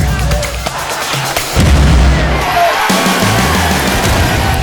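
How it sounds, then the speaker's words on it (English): A goal cannon firing inside a hockey arena, a loud booming blast that rolls into sustained rumbling and crowd noise, without talk. "it's time to fire up the cannon."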